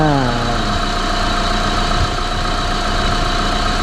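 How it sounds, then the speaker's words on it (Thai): A car engine catches with a rising whine and settles into a steady, loud idle with constant droning hum and vibration, running near and unchanging during a battery and alternator charging test. "ตอนนี้เราสตาร์ทเครื่องก่อนนะครับ"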